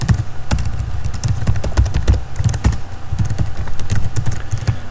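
Rapid, uneven clatter of keys on a computer keyboard as code for a jQuery status-update feature is typed, with dense close clicks and occasional heavier key thumps running steadily throughout.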